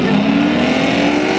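A V8 Ford Mustang engine roars loudly and steadily before a race, a dense close mechanical drone with no break.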